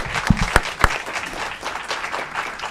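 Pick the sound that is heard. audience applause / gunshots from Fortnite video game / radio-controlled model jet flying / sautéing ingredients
audience applause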